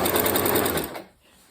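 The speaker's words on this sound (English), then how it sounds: "sometimes I like to back stitch over that little seam just to reinforce" Sewing machine back stitching over a quilt seam, its fast, steady mechanical whir running loud and close for about a second before stopping abruptly into near silence.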